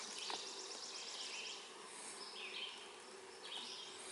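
Faint buzzing of bees around a hive drifts about, a soft wavering hum with occasional louder passes close by, set against quiet outdoor air.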